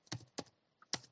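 Three crisp keystrokes on a computer keyboard, close and fairly quiet, tapped in an uneven rhythm while a Python data command is entered.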